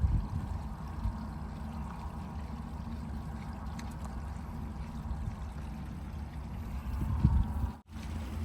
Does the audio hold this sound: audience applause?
no